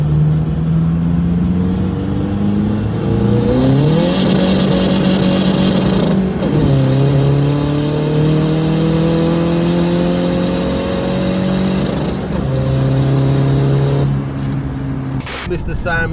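Engine of a tuned front-wheel-drive diesel Skoda Fabia vRS revving, with steady harmonic tones that rise and fall in pitch through several climbs, running continuously and loudly for the whole stretch under a voice speaking over it.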